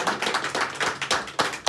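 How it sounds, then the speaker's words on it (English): A small studio audience claps for the behind-the-scenes crew of a live talk show, giving sparse, uneven claps in about seven loose bursts with short gaps between, close and moderately loud, no talking over them. "Can we get a round of applause?"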